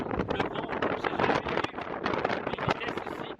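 Strong gusting wind buffets the microphone on an exposed mountain route in rain and hail, a dense, steady roar with rustling surges and no clear pauses.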